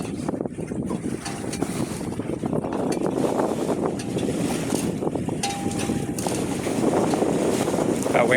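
Sailboat beating slowly to windward on a night passage toward Chatham Island, with steady rushing wind and water hiss against the hull, continuous and fairly loud, with no voices.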